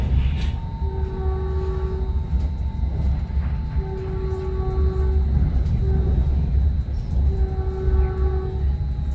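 Caltrain car 302 sounds its horn in repeated steady blasts, several long tones with short pauses between them, carried over the constant rumble of the moving train.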